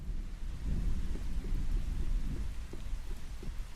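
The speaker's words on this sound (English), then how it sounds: "It's freaking raining." Steady rain pours with low rumbling thunder throughout a stormy scene in the survival game Once Human, a dense continuous wash with deep rolling booms and no voices.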